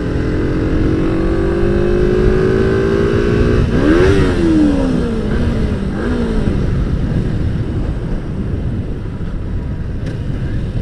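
A Kawasaki ZZR 250 motorcycle engine on a test ride revs hard, its pitch climbing steadily, then dropping after a brief shift before rising again, loud and close with wind noise and no talk.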